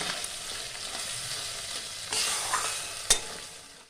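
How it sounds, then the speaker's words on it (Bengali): Mustard and poppy seed paste is stirred in a hot pan for prawn bhapa, making a close, continuous scraping sizzle that swells midway and ends with a sharp knock of the spoon. "সর্ষে পোস্তটা হালকা করে নাড়াচাড়া করে নেওয়ার পরে অল্প পরিমাণে জল দিয়ে দেবো।"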